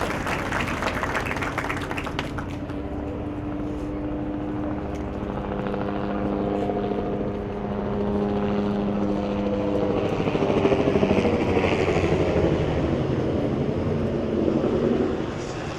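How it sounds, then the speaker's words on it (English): Military Apache helicopters flying over a first responders' memorial ceremony, a steady droning rotor throb that holds for the whole stretch and swells slightly louder toward the end, with no voices. "Military Apache helicopters"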